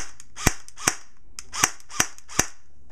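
A G4 PWS Diablo fires semi-automatic: five sharp, loud, separate cracks at a close, uneven rhythm, with no voices.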